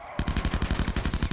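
Rapid automatic gunfire in the video game Grand RP, a fast, even burst of about fifteen close, punchy shots lasting just over a second.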